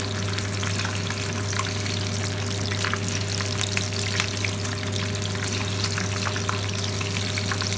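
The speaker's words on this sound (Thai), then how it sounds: "ตอนแรกเราก็จุ่มลงไปก่อนนะคะ เพื่อให้ปีกมันอ้าค่ะ คือ เราจะไม่ทับไปเลยนะคะ น้ำมันร้อนที่สุด" Fish deep fries in very hot oil for a Chinese restaurant-style dish, giving a loud, dense, unbroken crackling sizzle close by throughout.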